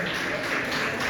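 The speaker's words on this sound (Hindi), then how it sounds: "जोरदार तालियों के साथ" An audience at a community honoring event in Muzaffarnagar gives a steady, dense round of clapping that fills the whole moment with a bright, continuous patter.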